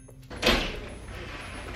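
A door bangs shut with a single dull thud, followed by a rattling, resonant rumble that slowly fades.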